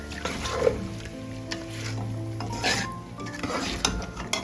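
Spoon stirring yogurt into chicken masala for butter chicken in a pan, soft scraping and wet stirring over a faint sizzle, with brief clinks and a low hum in the background.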